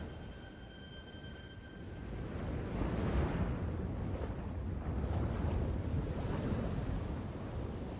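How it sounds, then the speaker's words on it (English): Ocean waves roll and crash with a broad steady roar that builds midway and stays loud, mixed with wind noise on the microphone. "I'm the ocean."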